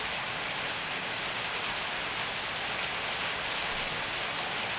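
Rain falls in a steady, dense hiss that stays level throughout, with no breaks and no voices.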